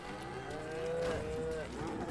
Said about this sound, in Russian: Коровы мукают.